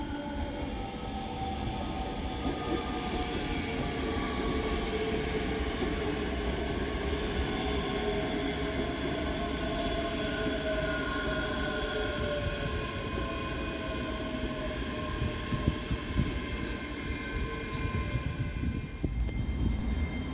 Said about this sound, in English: Departing on the far side is 385107 and 385104, with the 1850 Scotrail service from Edinburgh Waverley to Glasgow Queen Street via Falkirk High.